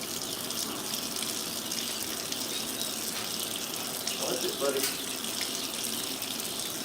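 Tap water gushes steadily into a plastic chick waterer being filled, a continuous hissing splash that runs throughout at close range, with someone speaking briefly over it.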